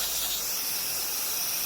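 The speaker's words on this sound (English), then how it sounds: "After releasing steam," Steam hisses out as it is released from a laboratory autoclave, a soft, steady broadband hiss heard close and alone for a brief moment at low volume.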